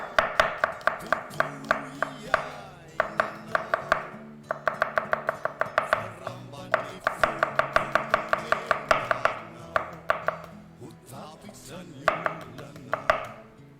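A knife chops two garlic cloves on a cutting board in quick, close, rhythmic bursts of crisp taps, with short pauses between runs.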